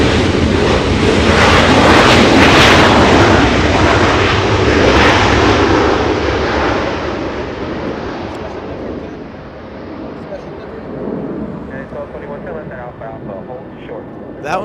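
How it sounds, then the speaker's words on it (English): A United Airlines Boeing 737 arriving at Los Angeles International Airport roars loud and close, its jet engine noise swelling over the first few seconds then fading into a lower rumble, with talk underneath. "We're going to go to the arrival, United Airlines, the 737."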